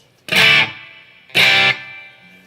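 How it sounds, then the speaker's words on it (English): An electric guitar, a Surf Green Squier Telecaster, is played through a small thumb-sized reverb pedal, with two loud strummed chords each ringing out into a lingering echoey tail that fades before the next. "Gives you a little kind of an echoey thing."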